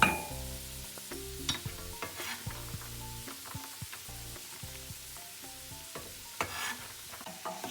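Carrots are stirred into a Guyanese red peas and dried shrimp cook-up in a pot, with scraping spoon strokes and a soft sizzle close up over background music.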